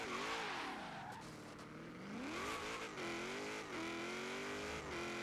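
A Ford RS200 rally car engine in Forza Horizon 3 howls and revs steadily, pitch swooping up and down with gear changes, continuous and close without pause.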